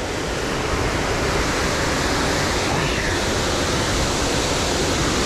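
Steady, dense roar of a waterfall at an Ohio River dam, loud and close, with continuous broadband rushing water and no breaks.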